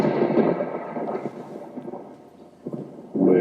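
Thunder sound effect in a radio station jingle: a deep, loud rumbling roll that swells, eases off, then surges again at the end, with no talking over it.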